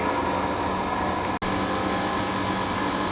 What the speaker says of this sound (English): I'm waiting for the system to vacuum